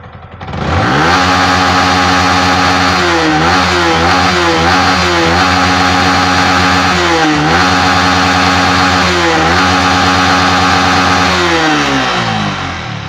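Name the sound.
Yamaha MT15 motorcycle engine revving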